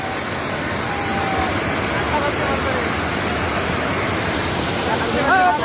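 Loud, continuous rushing floodwater from a cloudburst roars without pause as it pours over a bridge, with brief faint voices near the end.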